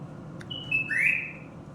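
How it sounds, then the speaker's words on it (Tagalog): A pet bird gives a few short, high chirps and a rising whistle-like call nearby, fairly faint over quiet room noise. "Ayan yung bird ko, guys. Ang sobrang ingay niya"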